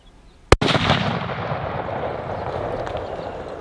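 A single loud, close rifle shot fired while hunting wild pigs in California, a sharp crack followed by a long rolling echo that fades slowly across the open country.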